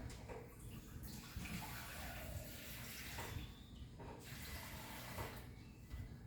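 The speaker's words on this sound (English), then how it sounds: "A little bit of water." Water poured into a chicken marinade with oil and vinegar, a faint continuous splashing trickle that runs steadily for several seconds with slight surges, close by and without talk.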